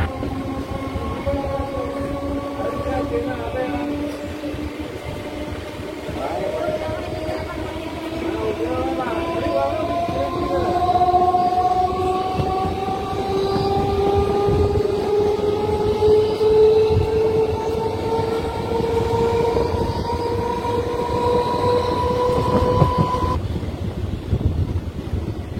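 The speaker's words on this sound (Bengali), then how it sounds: "একদম সঠিক নির্ধারিত সময় নিমো স্টেশন থেকে আমাদের ট্রেনটি ছেড়ে দিল।" Local passenger train on the Bandel to Barddhaman line running between stations near Rasulpur in Purba Bardhaman, with steady rumbling wheels and long rising tonal whines from the motors, loud and continuous, ending with a change near the end.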